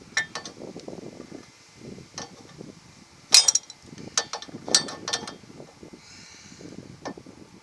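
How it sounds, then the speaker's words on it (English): Crescent wrenches tighten bolts on a spare bumper crash attenuator being installed on a Ford Ranger, giving scattered metallic clinks and ratcheting clicks in irregular bursts, close and moderately loud, with no talking. "Okay, I'm just about done tightening it up. Probably be better if I had smaller crescent wrenches."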